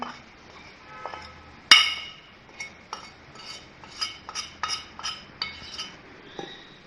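A spoon stirs half a cup each of flour and cornflour with spices in a bowl. It makes a loose series of sharp clinks and taps against the bowl, one louder knock, then quicker clinking toward the end.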